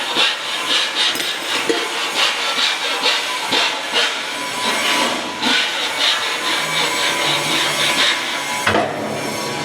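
A hammer mill runs loud and steady, a dense broadband roar with rhythmic pulsing and occasional sharp knocks throughout, with no talk over it.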